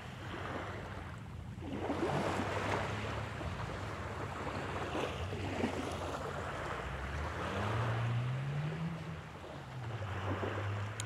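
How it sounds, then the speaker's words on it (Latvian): Gentle sea waves lap against pebbles along the shore, a soft, continuous washing surge with light wind noise and no voices. "maiga vilnīšu čalošana pret krastmalas oļiem"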